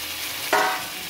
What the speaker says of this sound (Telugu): వీటన్నిటిని మనం మీడియం ఫ్లేమ్లోనే మనం ఫ్రై చేసుకుంటూ ఉండాలి.